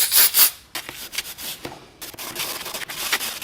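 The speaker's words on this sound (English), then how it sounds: "Some contact cleaner and a little Scotch-Brite pad, nothing crazy." A Scotch-Brite pad with contact cleaner scrubs a Honda CB900F clutch plate in close, uneven bursts of abrasive rubbing with brief pauses between strokes.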